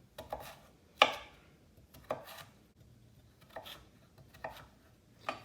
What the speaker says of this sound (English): Now we'll break these down into strips, about the same.